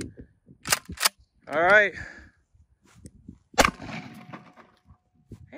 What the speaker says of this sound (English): Ain't it just fun to shoot a shotgun